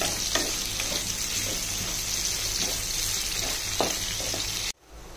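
Bitter gourd pieces deep fry in oil with a loud, continuous sizzle and crackle close up, broken by a few brief pops, and the sound suddenly drops away near the end.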